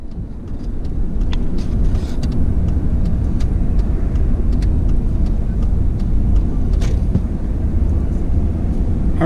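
A car cruises down Esplanade Avenue in New Orleans, its steady engine and tire rumble continuous and close throughout, with faint ticks and clatter from the street riding over the drone.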